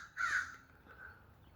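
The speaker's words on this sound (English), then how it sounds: "you see how loud that bird is?" A crow gives one loud, harsh caw close by in the early morning, followed by a fainter trailing call against quiet outdoor background, with no talking.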